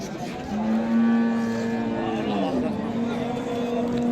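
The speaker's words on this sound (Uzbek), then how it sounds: "Juda ham ko'p sigir chiqqan." Cattle at a busy livestock market low loudly nearby, one long drawn-out moo rising and falling over several seconds, with crowd babble and market noise around it.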